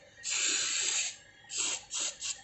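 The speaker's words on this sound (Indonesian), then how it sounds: "Jadi kita semprot semuanya pipa-pipanya supaya lebih awet seperti itu" An aerosol spray hisses onto the copper pipes of a refrigerator during servicing: one long burst, then three shorter bursts in quick succession, close and loud.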